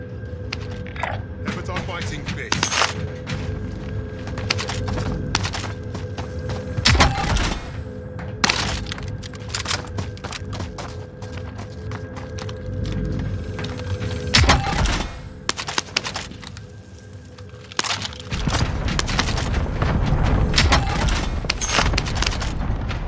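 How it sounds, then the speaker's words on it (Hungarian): NPCs fire guns in a video game, sharp cracks and bursts scattered irregularly over a busy mechanical background, with someone talking through much of it. "az NPC-k lövöldöznek valakikre"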